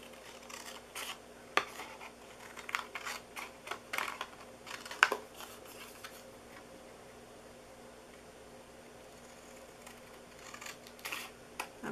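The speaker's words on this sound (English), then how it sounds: "I'm just cutting right inside that line because I don't want to have to erase the line now" Scissors snip through paper while cutting out a piece for a homemade pizza-slice gift box, soft close crisp snips in an irregular run, quiet and alone.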